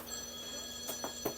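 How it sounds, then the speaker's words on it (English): A telephone rings in a room, three short repeated ring bursts over a steady background hum, fairly faint, with no speech during the rings. "That's your phone?"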